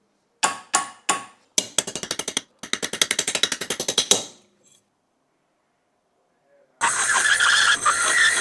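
Metal mounting bracket for a toaster PC build being cut, a quick burst of sharp rasping strokes that speed into rapid rhythmic grinding, then a pause before a loud sustained hiss.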